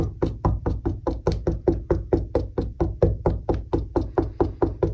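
Knocking on an old wooden board in a house in Sweden, checking it for woodworm: a rapid, even series of about twenty close, hollow knocks, alone with no talk.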